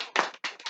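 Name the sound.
people clapping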